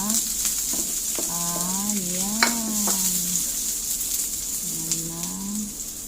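Ginger sizzling steadily in very hot cooking oil while a home cook prepares lapu-lapu fish, with a voice talking intermittently over the frying.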